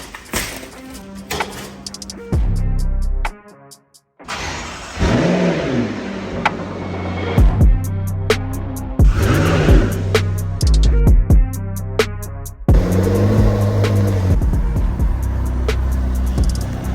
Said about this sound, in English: So let's pull the car out and slowly we could start putting it back together.